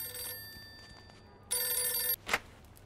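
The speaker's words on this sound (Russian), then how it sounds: "Кто-то звонит." An old-style telephone bell rings in the Mafia II video game, with two bursts of ringing separated by a pause and a brief clatter at the end, heard alone without talk.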